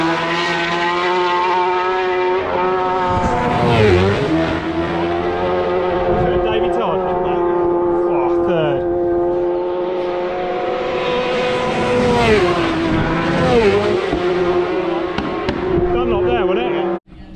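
Honda Fireblade superstock motorcycles race at the Isle of Man TT, loud high-revving engines screaming past with rising and falling pitch through gear changes, nearly continuous and close, with people talking underneath.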